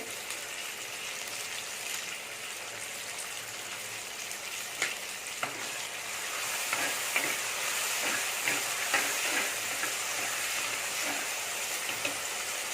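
Curry leaves frying in oil with softened onion and tomato for a Tamil dried fish and tapioca curry, a steady broadband sizzle with occasional crackles and stirring taps, growing somewhat louder midway, no talk.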